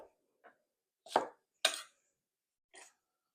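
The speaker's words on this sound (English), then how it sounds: "Just rough chops." A knife roughly chops a pepper on a cutting board in five sharp, separate strokes, the middle two loudest, in an otherwise quiet kitchen.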